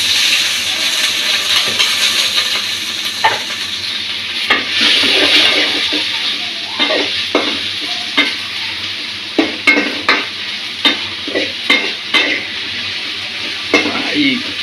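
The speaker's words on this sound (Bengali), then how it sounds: "আমার আম্মু পাতিলে তেল দিয়েছে। এখন পেঁয়াজ দিতেছি।" Onions frying in hot oil in a pot at home, a steady close sizzle with the clatter and scrape of a spoon stirring against metal, the stirring knocks coming in a quick rhythm toward the end.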